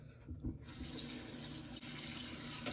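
Tap water runs steadily into a sink as a face is wetted before a wet shave with a Gillette double-edge razor, a constant close hiss with small splashes and a brief clink near the end.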